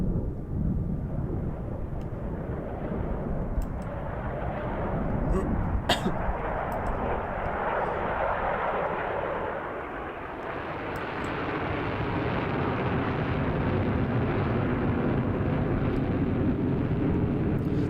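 An F-16 fighter jet in a Roblox airshow, a steady, broad jet roar that swells and dips slightly as it passes, continuous throughout with a voice talking over it.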